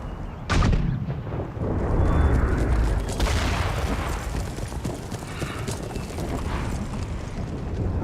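Mortar artillery firing in the strategy game Empire: Total War, one sharp close boom followed by a sustained rumbling barrage of distant blasts that carries on loud and dense throughout.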